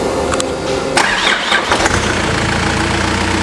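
A nearby Toyota Mighty X pickup fitted with an Isuzu 4JK diesel engine cranks and catches, then idles with a steady rumble, with a brief rise in revs early on.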